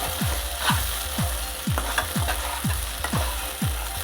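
Okra fry being stirred in a pan, with a continuous close sizzle and regular scraping strokes of a spatula roughly every half second.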